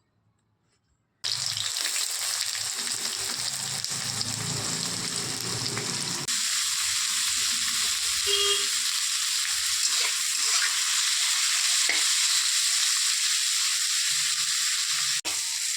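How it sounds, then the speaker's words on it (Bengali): Chopped onions frying in a pan for chicken chowmein, starting after a second of silence as a steady, close hiss that stays loud and even, with a few faint clinks. "পেঁয়াজটা একটু ভাজা ভাজা হয়ে গেলে"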